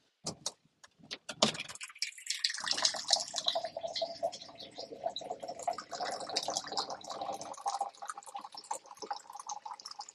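Water trickling and splashing into a cup, preceded by a few sharp clicks; a continuous, fairly close pour that runs for several seconds with slight gurgling changes, no talking.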